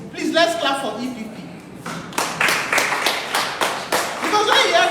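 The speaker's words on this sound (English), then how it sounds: "Please, let's clap for EPP." An audience applauds at a political party's talk show on menopause. A voice speaks first, then a burst of clapping rises in the second half and continues for about two seconds beneath voices.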